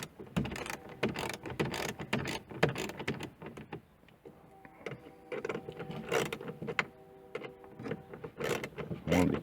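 A ratchet wrench works 7mm bolts loose under the dash of a 2000 Ford Mustang GT, giving bursts of quick close clicking and faint metallic rattles separated by short pauses.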